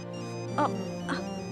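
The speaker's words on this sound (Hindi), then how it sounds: "वो देख, फिर से फोन बज रहा है।" A phone rings in a home, two short electronic ringtone bursts repeating over steady background tones, fairly faint.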